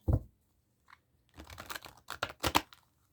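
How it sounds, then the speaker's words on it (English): Tarot cards are shuffled by hand: a soft papery snap, then a run of quick flicking riffles and crisp card slaps, close and quiet, with no talking. "we'll shuffle the cards"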